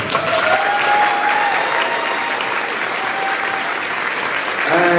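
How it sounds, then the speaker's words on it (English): Audience applause at a high school pre-prom promenade, a dense, loud wash of clapping filling the whole stretch with cheering voices rising faintly through it and building again near the end. "So I'd like to hear some applause"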